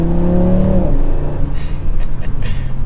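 A 2024 Audi RS3 pulls hard with the engine rising in pitch, then short shifts at about 5,000 rpm, and the revs drop into a lower, rougher drone as it keeps accelerating. It is loud and close, with no voices.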